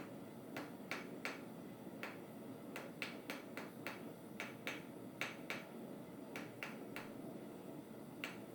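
Sharp metallic hammer blows ring out on hot steel being drawn to a point while forging a simple Christmas ornament, irregular strikes in quick clusters over a low background hum.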